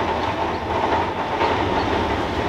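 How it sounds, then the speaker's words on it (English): A steady, dense rolling rumble with gritty rattling, like a wagon full of gravel rolling past, runs loud and unbroken throughout with no talk. "Sounds like there's a whole wagon full of gravel going around across here."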